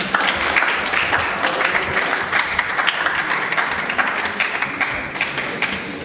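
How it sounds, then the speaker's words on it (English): A seminar audience claps enthusiastically, dense steady applause filling the room for several seconds, loud and sustained without any talking. "Please give him a round of applause."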